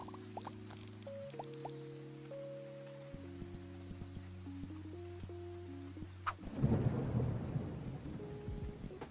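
Rain weather arrives in a Roblox game: a few steady synthetic tones give way to a sudden burst of rushing rain noise with a thunder-like rumble that carries on to the end.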